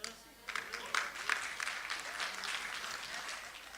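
An audience claps steadily at a conference keynote, a dense patter of applause that fills the room at moderate volume.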